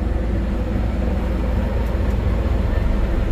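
A 2009 Caterpillar 140M AWD VHP Plus motor grader runs in second gear, giving a continuous loud diesel drone with a broad low roar that holds level from start to finish.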